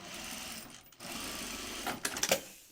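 A sewing machine stitches a bag in quick running bursts, loud and close, with short pauses between runs and a few sharp clicks near the end.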